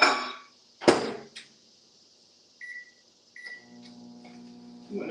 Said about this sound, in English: we're gonna put this in the microwave on 30-minute intervals.